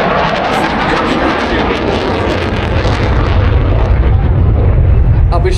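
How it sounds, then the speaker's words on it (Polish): A fast, loud jet airplane roars over the airfield at the 2023 Radom air show, a dense, continuous rumbling blast that swells slightly toward the end with no commentary over it. "jak brzmi lotnisko, gdy latają samoloty, a nie ma komentarza."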